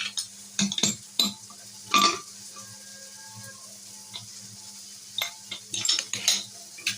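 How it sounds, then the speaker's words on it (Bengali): Metal pots and utensils clink and scrape in a home kitchen while a pressure cooker holding mixed vegetables with paneer is opened, short sharp knocks scattered over a quiet background hum. "এখানে কুকারটা খুলে দেখাচ্ছি"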